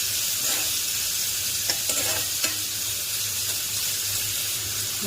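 Onions sizzle in hot oil with a steady, hissing crackle, close up, and a few soft stirring scrapes break through the frying.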